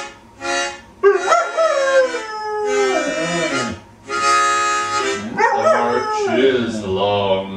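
A dog howls and yips in long, rising and falling vocal phrases, close and fairly loud, with brief pauses between the sung notes.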